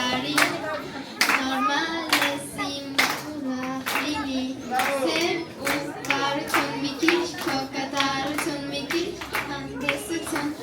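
Audience clapping at a New Year celebration, bursts of hand claps over a crowd, with children's voices and talking mixed underneath.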